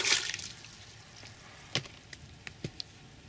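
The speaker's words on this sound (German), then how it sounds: "nach 5 Minuten etwa nehmen wir jetzt das Schälchen hier raus, damit das restliche Wasser abtropfen kann" Leftover water draining from a soaked dish of substrate for hydrangea cuttings: a short splashy pour at first, then sparse, quiet single drips close by with no talk.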